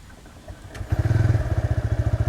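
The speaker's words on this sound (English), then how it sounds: "Let's first again experience how silent the start is." A TVS Raider commuter motorcycle engine fires up after a short starter whir, then settles into a steady, rhythmic low exhaust thump at close range, quiet and even, with no voices.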